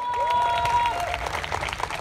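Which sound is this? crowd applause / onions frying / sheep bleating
crowd applause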